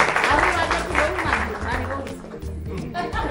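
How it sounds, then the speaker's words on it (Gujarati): A studio audience at a Gujarati television game show bursts into loud, sustained applause, continuous clapping filling the whole moment with a little crowd chatter mixed in. "જોરદાર તાળીઓ થઈ જાય"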